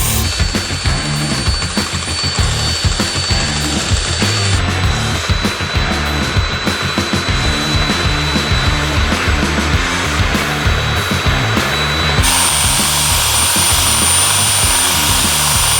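A homemade electric drill runs with a loud, steady motor whine and a rough mechanical rattle, continuously and close by without pause.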